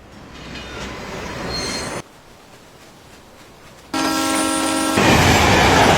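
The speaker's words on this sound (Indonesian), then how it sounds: "sebuah kereta cepat sedang melaju" A high-speed LRT train racing along the tracks in a Korean drama, a loud steady rumble and rush of wheels that cuts between shots, ending in a bright metallic screech.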